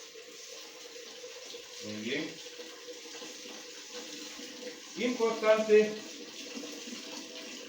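Water runs from a kitchen tap into a small cooking pot while tuna croquettes are being prepared, a faint steady stream under a person's speaking voice with a couple of louder splashing bursts.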